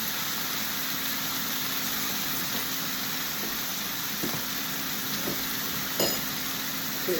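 Steaks sizzling in a pan with butter and herbs, a steady close hiss of frying fat with a constant hum beneath and a few faint clinks of a utensil.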